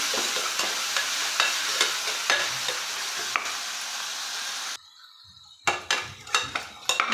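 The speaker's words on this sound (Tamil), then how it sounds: "அதில் தக்காளி சேர்த்துக்கலாம் சேர்த்துட்டு தக்காளியும் நல்லா வணக்கிக்கலாம்" Onions and tomatoes sauté in a pan for a peas rice and veg kurma, steady sizzling with repeated spoon scrapes and clinks against the pan, briefly dropping out before sharper stirring knocks resume.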